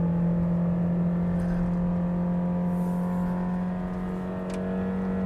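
A Toyota Innova seven-seater MPV in a Genting taxi-driving video game, its engine droning steadily at close range with a constant low hum and a slight dip near the end, with no voices.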